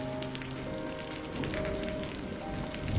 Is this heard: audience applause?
no